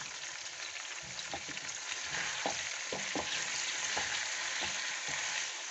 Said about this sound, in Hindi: इसको 1-2 मिनट के लिए बस फ्राई करेंगे